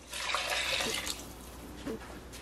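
Vegetable broth is poured in a steady, close liquid stream for about a second, then trails off into softer splashes and a small drip-like burst near the end, with no talk.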